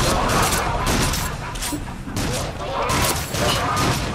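Dense gunfire in the video game Until Dawn: Rush of Blood, with repeated rapid bursts of shots rising and falling over several seconds. It is loud and busy, and a voice speaks over parts of it.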